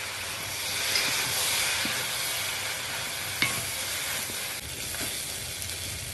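Soy sauce hits a hot wok of vegetarian fried rice and sizzles in a soft, continuous hiss, with occasional faint clicks of stirring over about six seconds and no talking.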